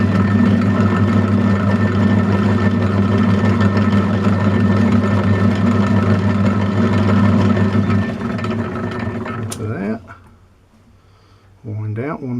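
Metal lathe running in forward with no feed applied, a loud steady motor and spindle hum that drops in level, briefly cuts out and then restarts near the end.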